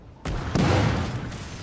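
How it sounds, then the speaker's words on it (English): Ship cannons in the pirate game Skull & Bones fire at a shark, giving a loud booming barrage that starts abruptly and rumbles on as a sustained volley of blasts. "There's cannons. Can I take these cannons with me? I can shoot them though."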